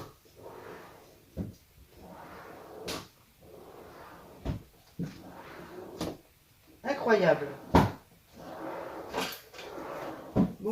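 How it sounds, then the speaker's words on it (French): Drawers are pulled open and pushed shut one after another during a search for tape, each ending in a sharp knock at a steady pace, while someone talks and murmurs between them. "Ah oui, je vais faire tous les tiroirs."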